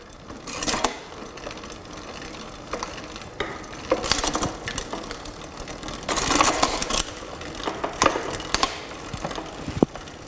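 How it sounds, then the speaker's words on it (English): Front derailleur of a Royce Union 27.5-inch 21-speed mountain bike being shifted through its gears, with a ticking freewheel and scattered clicks and clunks close by, no talk. "Now it's time to go on the other side and check the front gears."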